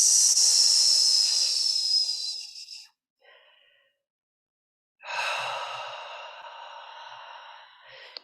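Two long, breathy exhales during a gentle back-body yoga practice, each a loud, airy hiss that fades out, separated by a short quiet pause.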